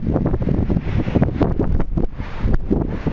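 Wind blowing at a beach in Croatia, gusting continuously and buffeting the microphone with rumbling, uneven bursts throughout, loud and close with no talking.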